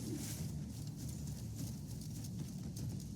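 Horse hooves clip-clop in the video game Crimson Desert, a quick, steady rhythm of muffled thuds continuing throughout under ambient background noise, with no talking.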